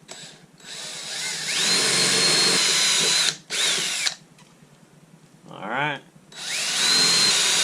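A power drill bores holes through a jon boat's transom in two long, loud bursts with a shorter burst between, the pitch rising as each bit spins up, followed by a quieter gap holding a brief scrape and a single spoken word.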